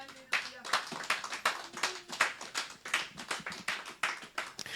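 Church congregation claps and acclaims the Lord, a steady run of rhythmic hand claps from many people filling the room, fairly loud and continuous, with voices calling out beneath the clapping.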